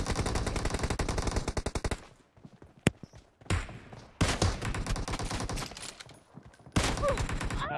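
Automatic gunfire in a PUBG Mobile match rattles out in several rapid bursts of close, sharp shots, separated by short pauses and a single isolated crack.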